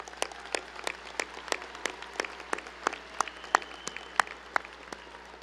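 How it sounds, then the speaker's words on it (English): Graduation audience at Legacy High School applauding school staff, with scattered, distinct claps that sound sparse and fairly near, each crack separate rather than a dense roar. "please give a round of applause to these amazing people"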